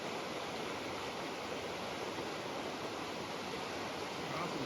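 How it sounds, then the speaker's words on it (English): Creek water rushes steadily throughout a wilderness crossing on a sheep hunt, a dense, continuous broadband wash with no break and no talk over it. "Crossing creeks."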